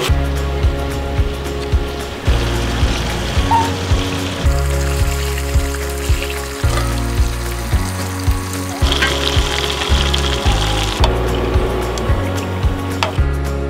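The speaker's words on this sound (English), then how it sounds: "I'm just going to put that in some oil, fry those up" Fish frying in oil at a coastal campsite, a steady continuous sizzle lasting throughout, close and fairly loud over a low droning hum, with no talking.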